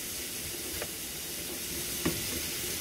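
Meat sautés in a pan with a soft continuous sizzle, and a couple of brief utensil clinks and stirs can be heard close by.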